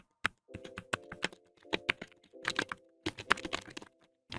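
Rapid clacky keystrokes from a mechanical keyboard, bursts of typing with brief pauses, close and crisp with no voices.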